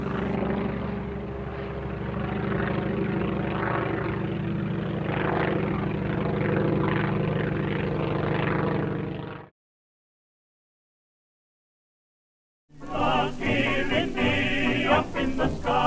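A Ryan monoplane replica of the Spirit of St. Louis with a Wright J5 radial engine drones steadily overhead for about nine seconds, then silence, followed by music.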